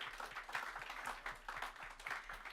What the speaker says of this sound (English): give like a big round of applause to like our speakers today